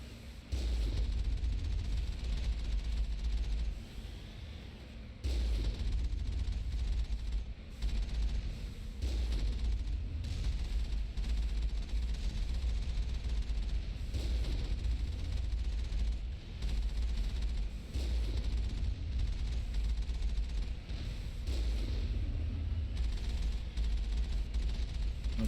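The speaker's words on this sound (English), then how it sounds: "We're driving around while we're shooting so that we don't get hit by missiles quite so often." Sustained vehicle-mounted gunfire and explosions in the sci-fi game Mass Effect while fighting turrets, a dense continuous barrage of rumbling blasts with brief gaps, loud and close throughout.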